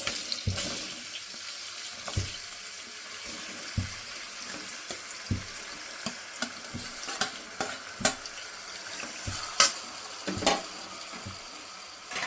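Chopped tomatoes dropped into hot oil and stirred, with intermittent spatula knocks and scrapes over a faint sizzle, a few louder clatters toward the end, no voices.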